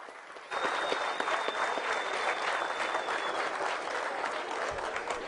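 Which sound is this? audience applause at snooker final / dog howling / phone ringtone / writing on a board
audience applause at snooker final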